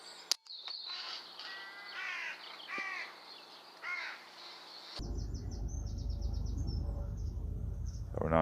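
A crow caws several times at moderate distance from a hedgerow on a spring morning, the harsh calls standing out over quiet air before a steady rush of wind noise takes over.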